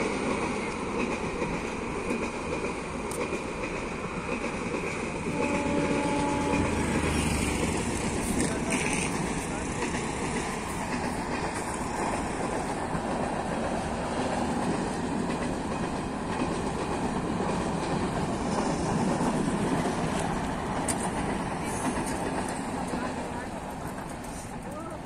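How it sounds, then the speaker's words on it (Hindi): A train rolls along the tracks beneath a road flyover bridge near Kukatpally in Hyderabad, a loud, steady rumble and rattle of wagons lasting throughout, with traffic noise and voices mixed in. "ये ट्रेन आ चुकी है"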